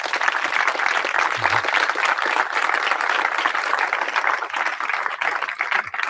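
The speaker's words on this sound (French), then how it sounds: "Merci beaucoup Benoît, je pense qu'on peut bien l'applaudir." An audience gives continuous applause to speaker Benoît Poizat at the end of his talk, with dense, even clapping from a large room that barely varies in strength.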